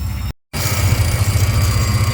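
An engine idles steadily at close range, a low, even rumble with a faint vibrating pulse, cut by a brief dropout near the start and then running on alone.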